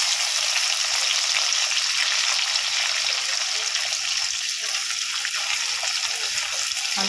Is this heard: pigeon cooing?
no